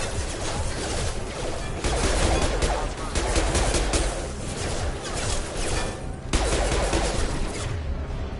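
Sustained automatic gunfire in the video game Mass Effect 2, dense overlapping bursts rattling loudly for the whole stretch with brief dips between volleys, no talking.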